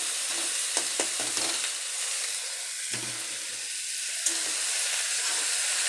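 Malabar spinach greens being stirred into a hilsa fish head curry in a pan over steady frying sizzle and hiss, with a few close scraping strokes and clinks of the spoon against the pan.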